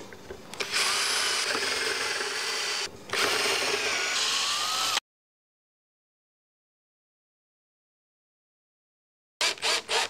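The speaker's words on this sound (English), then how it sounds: "I'll have to pre-drill to set that down in there," Power drill pre-drilling holes in wood for an acoustic-electric Tele-style guitar bridge, running steadily for about five seconds with a brief dip, then silence and a few short final bursts.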